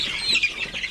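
Philippine native darag chickens, pure-bred stock raised on a lechon farm, give soft clucks and brief wing flutters close by, with no one speaking.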